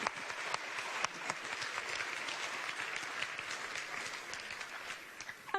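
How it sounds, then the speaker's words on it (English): Sustained audience applause for award winners at the RegioStars Awards Ceremony, a dense, steady wash of many hands clapping that stays loud throughout and tapers slightly near the end. "let's give our winners another big round of applause"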